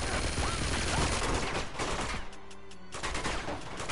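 Gunfire in the Uncharted 2: Among Thieves video game, a dense continuous barrage of shots filling the whole stretch, loud and close, dipping briefly in the middle before resuming.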